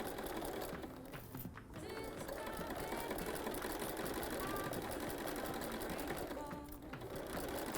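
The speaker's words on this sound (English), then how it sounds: "And I'm sewing the whole thing shut." A domestic sewing machine runs steadily while stitching a quilted penguin play mat through thick layers, a close continuous whirring hum with two brief pauses.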